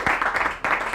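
Audience applause at a school quiz competition show, a brief burst of clapping from a crowd with a short dip before it picks up again.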